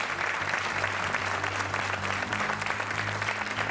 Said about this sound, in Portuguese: aplauso para o Tiago